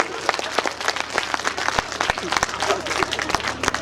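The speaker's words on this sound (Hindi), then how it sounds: "तालियां जोरदार बजनी चाहिए।" Audience clapping at a comic poetry event, loud and close, with distinct individual claps rising and falling through a lively burst while voices murmur underneath.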